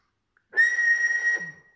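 A steady, sustained whistle goes into the microphone of an Alan 8001 S CB radio with a modified transmitter. The single clean tone lasts about a second and is heard alone after a brief silence.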